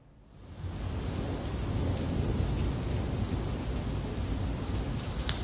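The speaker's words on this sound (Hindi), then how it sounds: "अभी तक लगातार झुंझुनू जिले में बारिश का दौर चल रहा है।" Heavy rain during a storm in Jhunjhunu district, Rajasthan, a dense continuous roar of downpour that swells in at the start and holds steady, with no voices.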